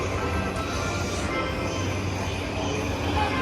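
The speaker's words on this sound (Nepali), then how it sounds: "तर ट्रेन त आयो, आउट अफ सर्भिसको ट्रेन आयो।" An out-of-service train rumbles steadily as it arrives, low and continuous, with a faint distant quality and no clear rise or fall.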